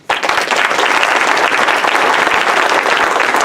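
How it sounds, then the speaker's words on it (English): A loud burst of audience applause at a congressional candidate debate, starting sharply and continuing as steady, dense clapping for a few seconds with no talk over it. "round of applause for Mike."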